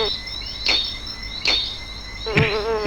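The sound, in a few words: bee buzzing sound effect in video game Ahriman's Prophecy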